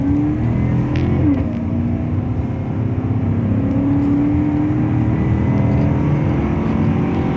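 A 2018 Chevrolet Silverado with a 5.3 V8 accelerates hard on a wet country road, its engine drone steady and loud, climbing slowly in pitch with a brief dip early on, close up and without talk.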